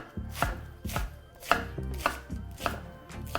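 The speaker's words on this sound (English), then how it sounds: "So we're gonna take our lettuce, kind of like a little flat, push it down, and then we're gonna make little strips." Knife chopping through flattened lettuce leaves into strips on a board, a steady run of crisp, close cuts at a loose, even pace with no talking.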